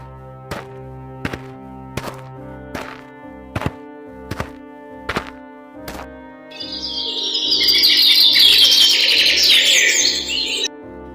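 Regular wooden knocks repeat about every second, then a burst of high, busy bird chirping rises near the end, fairly close.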